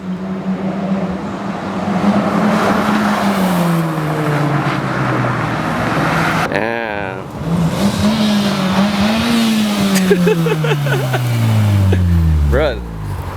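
A tuned Honda Civic Type R with a front-mount intercooler, downpipe, front pipe and chargepipe accelerates hard in a pull, its engine note climbing through rising revs with a brief dip at a shift, loud and close, a voice speaking briefly.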